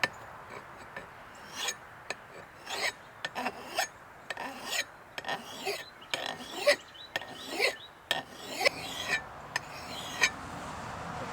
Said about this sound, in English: You can hear the difference whenever you're catching metal and whenever you're just sliding.